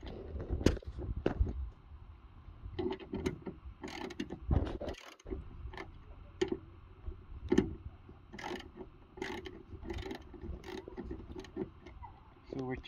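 Screw being backed out and swapped on the hood of a 2004 Mitsubishi Lancer ES, a series of small sharp metallic clicks and ratcheting ticks in uneven bursts, close by, with quiet background noise between them.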